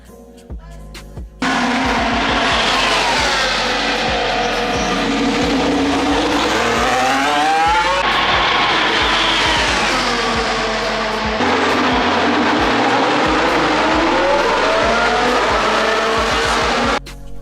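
Formula 1 cars at Bahrain pre-season testing roar past one after another, high-pitched engine notes rising and falling as each car sweeps by at speed, loud and continuous from a trackside balcony.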